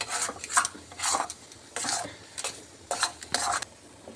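Thickening lentil batter for Bengali dhoka is stirred in a pan, with repeated rough scraping strokes of a spoon against the metal in uneven bursts, close and moderately quiet.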